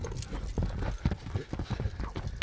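Fast clip-clop of a big, strong horse's hooves, a quick uneven stream of hard knocks close by with a faint whinny-like undertone and no talk.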